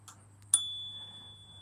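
A single sharp ding from a cheap bicycle bell on a Himiway Zebra Step-Thru e-bike rings out close by, its bright tone lingering and slowly fading against a low hum.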